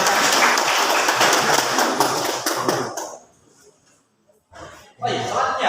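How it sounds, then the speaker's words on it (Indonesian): An audience at a school debate competition semi-final claps for the opposing team. The applause is loud and dense, fades out to near silence, then picks up again briefly. "mari kita berikan aplaus untuk tim Kontra"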